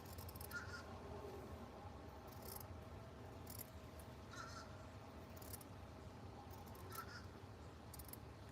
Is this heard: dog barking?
no